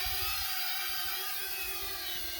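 A compact Holy Stone HS430 FPV drone hovering in flight after being thrown into the air, giving off a steady high-pitched propeller whine and buzz that stays close, loud and constant, with no voices.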